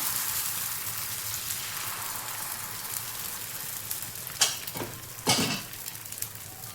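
Ghavne rice batter hisses on a hot ghee-greased pan, a soft continuous sizzle with two sharper bursts of crackling near the end.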